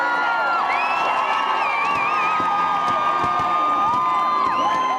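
A large crowd cheers, whoops and shouts continuously and loudly at the arrival of the 2002 Salt Lake City Olympic torch at City Hall, with many high excited voices and whistles throughout.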